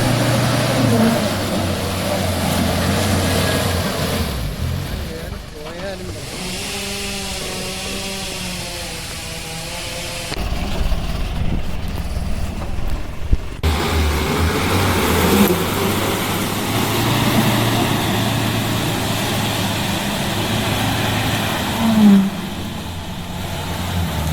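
A timber lorry drives along the road with a loud, continuous engine drone that rises and falls as it revs and shifts over a long stretch.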